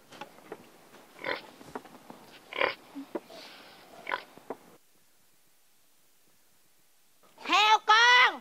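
After a stretch of talking and a pause, a piglet lets out a couple of loud, squealing grunts close by.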